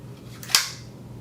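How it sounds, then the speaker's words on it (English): A pistol clicks into an IMI Defense retention roto holster with a single sharp, close click against a quiet background. "But when you do put it back in here, you will hear it physically click."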